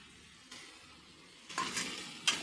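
Eggs hit a pan of fried onion masala for a village-style egg curry, giving three short, faint sizzling bursts spaced about a second apart over a quiet background.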